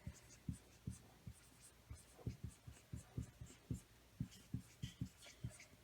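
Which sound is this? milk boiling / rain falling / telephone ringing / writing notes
writing notes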